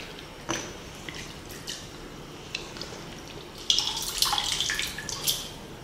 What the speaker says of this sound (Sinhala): මේ වතුර එක අපි අයින් කර ගන්නවා.